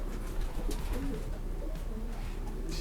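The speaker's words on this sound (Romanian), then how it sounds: "iar aici s-au întors toți porumbei." Soft, low cooing of pigeons over a steady background hum, several overlapping calls continuing throughout.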